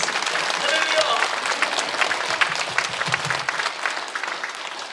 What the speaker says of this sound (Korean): 우리 주님께 영광의 박수를 드리겠습니다.